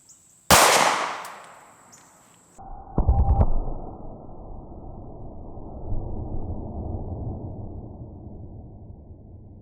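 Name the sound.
subcompact pistol firing hollow point bullets into ballistics gel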